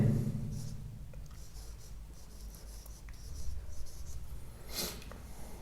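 Pen writing words in a notebook during a book exercise, a soft continuous scratching and rubbing close up, with a few light taps and strokes and no speech.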